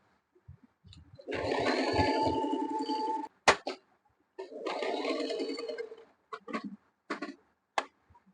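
A Singer Simple 3229/3223 domestic sewing machine runs two close bursts of rapid stitching, each a few seconds long, separated by clicks and knocks as the fabric and settings are adjusted.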